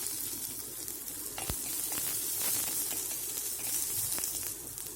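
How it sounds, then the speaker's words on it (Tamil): Steady sizzling of chopped onion sautéing in a pan, a continuous hiss with a few faint clicks and knocks. "ஒரு பெரிய வெங்காயத்தை ஃபைனாக கட் பண்ணி அதையும் சேர்த்து நல்லா வதக்கிக்கலாம்."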